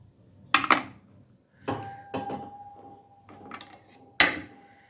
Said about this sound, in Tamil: இட்லி வெந்துருச்சு இப்போ நம்ம எடுத்துடலாம்